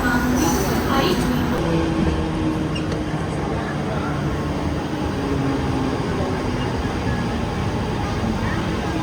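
A Mumbai local train bound for Vashi at a busy station platform, with a steady, loud rumble and rail noise running throughout.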